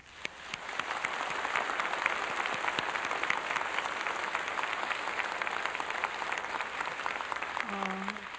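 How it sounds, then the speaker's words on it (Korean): A church congregation at an anniversary mission festival applauds together in a long, steady round of clapping, fairly distant and even, with a brief voice near the end. "이 시간 우리와 함께 계신 주님께 우리에게 영광의 박수를 드리시기 바랍니다"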